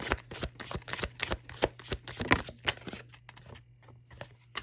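Tarot cards being shuffled close up, a rapid series of crisp riffling flicks and slaps that thins out and goes quiet toward the end, no talking.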